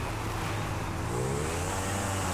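Car engine in GTA Online picking up speed, a steady low rumble with a rising tone, continuous and fairly close, no voices.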